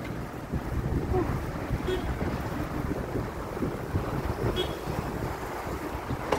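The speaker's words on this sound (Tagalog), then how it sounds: "Sarap ng hangin." Wind blowing steadily across an outdoor spot in hot weather, a continuous broadband rush with gusty swells that fills the whole stretch, close to the microphone.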